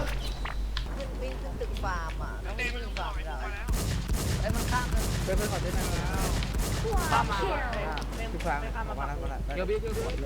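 Rapid gunfire bursts in the online survival shooter Warz, with repeated shots and volleys beginning partway in and continuing dense and loud while Thai-speaking players talk excitedly over the shooting.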